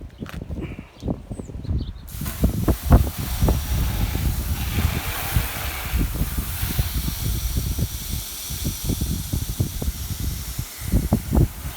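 Water sprays loudly at close range to rinse car soap off a car's paint, a continuous hiss with splashing bursts that rise and fall as the stream moves.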